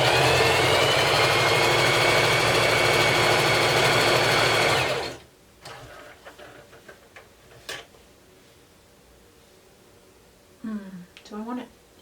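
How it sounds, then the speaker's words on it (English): A sewing machine runs a zigzag test stitch on a denim jacket upcycle, humming loud and steady for about five seconds before stopping, followed by faint clicks and a brief voice. "I might wanna do a test stitch. I haven't done zigzag on this machine"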